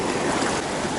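Halfmoon Creek, a mountain stream near Leadville, Colorado, tumbles over rocks in a loud, close, continuous rush of water with no voices.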